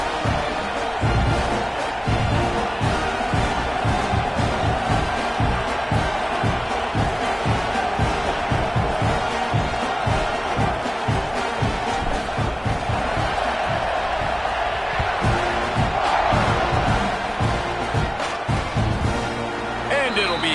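A college football stadium crowd at a Texas A&M versus Missouri State game roars continuously, a dense, loud wall of cheering and shouting that stays steady throughout, with a commentator talking over it.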